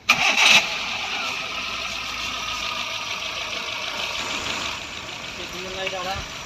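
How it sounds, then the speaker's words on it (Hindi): Hyundai i10 engine being started during a car service, a brief cranking burst followed by the steady hum of idling, with a person talking over it near the end. "अब गाड़ी को स्टार्ट करते हैं।"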